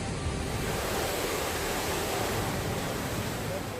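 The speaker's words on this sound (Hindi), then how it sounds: "डोडा में बादल फटने के बाद जब पहाड़ी से सैलाब की प्रचंड धारा तबाही की शक्ल में आगे बढ़ रही थी" Floodwater after a cloudburst in Doda, Jammu and Kashmir, surges with a loud, unbroken roar. The torrent sounds close and powerful, with no pauses in its broad rushing noise.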